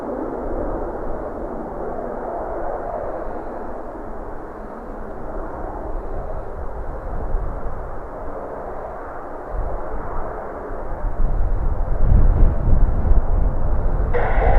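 An ATR turboprop at windy Dublin Airport makes a steady, distant roar under wind noise, swelling louder toward the end.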